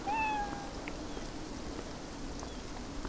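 A cat meows in the rainy world of the video game Beyond Eyes, one short, clear mew near the start over a steady hiss of falling rain, then only the rain continues.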